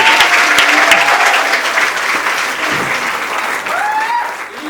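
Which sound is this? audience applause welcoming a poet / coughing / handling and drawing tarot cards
audience applause welcoming a poet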